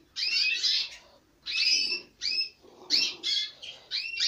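Small aviary birds chirp in repeated bright bursts of twittering song, close and fairly loud, with short pauses between phrases and a faint low background rustle.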